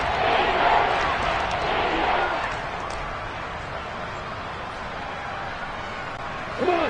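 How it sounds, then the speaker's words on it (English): A football stadium crowd roars loudly at first, then settles into a steady broad rumble of noise, under a commentator's voice. "The crowd getting into it as we come up on a big 3rd down"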